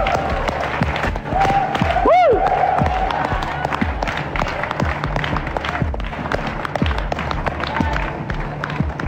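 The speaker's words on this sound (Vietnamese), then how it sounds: "Vỗ tay lớn nha các bạn." Studio audience clapping and cheering on a Vietnamese TV game show, a steady crowd applause bed running throughout with a rising whistle-like tone near the start, under the host's talk.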